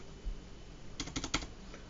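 Keys on a graphics calculator are pressed in a quick run of about five close, crisp taps clustered in the middle, with quiet room tone on either side.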